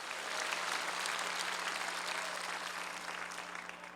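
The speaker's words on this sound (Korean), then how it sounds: "박수로 하나님께 영광 돌립니다" A large crowd applauds at an outdoor prayer rally on a plaza at the War Memorial in Yongsan, Seoul, a broad sustained wash of clapping that holds steady and then gradually tapers, somewhat distant and moderate in level.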